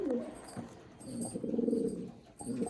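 Malwai pigeons coo in low, rolling bursts, a few repeated calls close by with short pauses between them, no talking.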